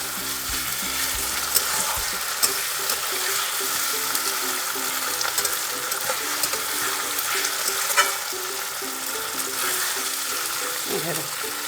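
Mutton curry with chopped ripe tomatoes frying in a pan, a steady close sizzle and crackle broken by scraping stirs of a spoon against the pan, continuing evenly throughout with no talking.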